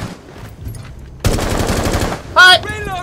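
Gunfire bursts in a Rainbow Six Siege match as a player lands a headshot: a short rapid volley of shots, then a sharp electronic tone, loud and close with faint voices nearby.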